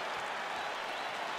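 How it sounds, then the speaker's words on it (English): A UFC video game arena crowd claps and roars, a dense steady wash of applause filling the short stretch with no voices over it. "crowd getting excited as this fight gets underway"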